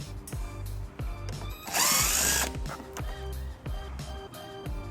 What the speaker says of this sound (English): We're going to start by removing these 2 screws using a 7/32 socket.